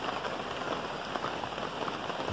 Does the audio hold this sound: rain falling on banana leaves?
yes